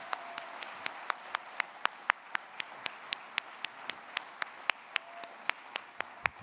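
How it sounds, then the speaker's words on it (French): Sparse applause at a sports tribute gala, a thin scatter of individual claps at a slow, fairly even pace, quiet and somewhat distant. "j'aimerais qu'on donne une bonne main d'applaudissements à Serge"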